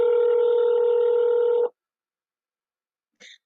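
An automated prison phone line gives a loud, steady keypad or dial tone for about a second and a half, then silence, then one short tone burst near the end.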